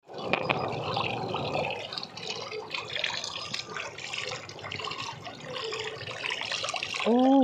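Running water pours steadily over a 5 kg catla fish as it is washed clean, a continuous close splashing and rushing that fills the whole stretch at a fairly even level.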